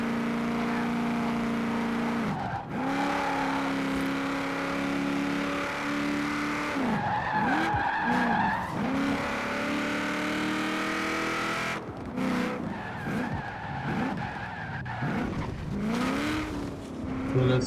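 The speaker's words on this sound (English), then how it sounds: "Let's try a fast turn here. Again, it likes to drift a bit." Hoonigan Bronco in the Forza Horizon 4 racing game drifting through a fast turn, with a steady engine drone, tire skid squeals and revving that rises and falls across the run, loud and alone without talk.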